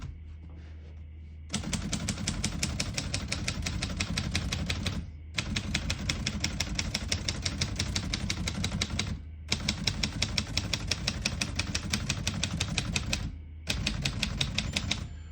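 Rapid, steady clacking of keys on a 1947 Royal Quiet Deluxe manual portable typewriter in long runs, broken by brief pauses, with a small margin bell chime near the end of a line.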